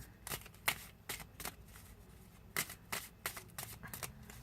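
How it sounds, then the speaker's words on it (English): Quick bursts of tarot cards being riffled and shuffled close by, in short irregular flurries with brief pauses between them. "So we're shuffling for you."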